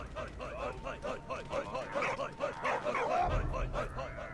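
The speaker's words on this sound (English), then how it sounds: "This dog is just wandering around like he don't care." A dog in the Valiant Hearts video game yips and whimpers in a quick run of short, high calls over a steady game background, while someone talks throughout.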